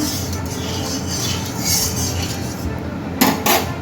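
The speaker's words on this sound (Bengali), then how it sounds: "তেলটা নাড়িয়ে নিলাম" A spatula scrapes and clinks against a wok as a small amount of oil is stirred for frying paneer, a steady close metallic rattle with a couple of sharper knocks near the end.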